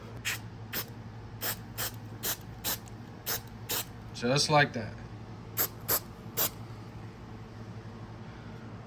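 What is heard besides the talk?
spray glue being sprayed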